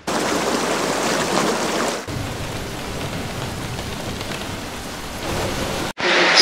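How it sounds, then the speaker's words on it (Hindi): Steady rain falls in an Indian village, a dense continuous hiss of drops on surfaces, loud and close, with the level shifting slightly partway through and no talking. "लेकिन अभी बारिश कंटिन्यूसली वैसे ही चल रही है"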